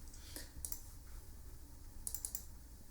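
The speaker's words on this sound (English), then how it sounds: "So let's type it here." A few quiet, sharp clicks from typing on a computer keyboard, in two small bursts over faint background hiss.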